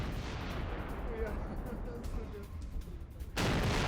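Blasts at a Russian weapons depot in Donetsk: a series of heavy, distant explosions and popping bursts rumble under a hazy background, then a loud surge of noise at the end.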